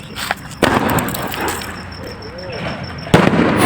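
Sharp sky shot firework bangs burst out nearby during Diwali, fired sideways, one after another with a loud crackling wash between them and a thin whistle trailing through.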